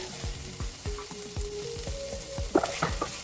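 Quinoa sizzles and fries in a pan while a spoon stirs it, scraping in a steady run of short strokes over a constant close frying hiss.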